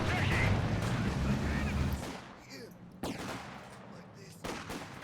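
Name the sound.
MG42 machine gun fire in a video game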